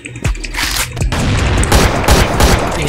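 Rapid bursts of AK-103 rifle gunfire crackle continuously, with booming shots layered over a dense, loud barrage of video game combat noise.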